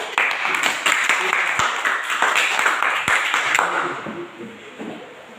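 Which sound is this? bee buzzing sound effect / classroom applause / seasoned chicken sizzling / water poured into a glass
classroom applause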